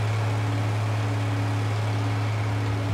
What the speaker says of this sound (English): The road roller.